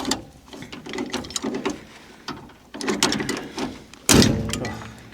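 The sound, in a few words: tightening a fitting on a trailer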